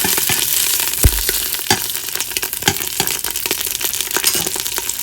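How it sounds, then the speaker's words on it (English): Ground meat browns in a pan as the base for spaghetti sauce, giving a steady close sizzle and crackle broken by a few sharp clicks and stirring knocks. "Now while that is browning, make sure you don't burn it too much."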